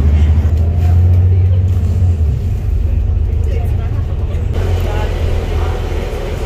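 Ride aboard a city bus in Birmingham, a deep rumbling engine drone that drops and shifts partway through, with talk over the top.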